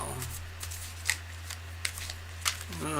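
Playing cards riffled and shuffled by hand, giving three short crisp bursts spaced about a second apart over a steady low hum, with a brief voice near the end.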